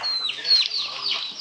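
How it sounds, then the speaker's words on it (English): Chickens cluck briefly and clearly at close range on a rural farm in Conner, Apayao, Philippines, with several overlapping calls in a short burst. "Turkey everywhere, chicken."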